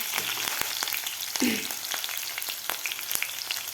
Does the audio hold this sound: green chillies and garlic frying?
yes